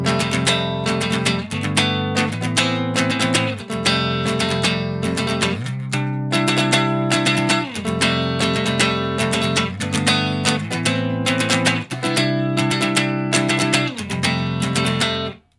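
An electric guitar in drop D tuning strums a chord with an added ninth and tenth again and again in a steady rhythm. It is full and ringing, close and alone, with no talking.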